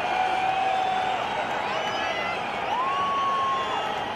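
A large stadium crowd roars steadily at a cricket match as Sachin Tendulkar bats in the Road Safety Series 2021, a dense, continuous wash of cheering and whoops with a commentator's voice running over it throughout.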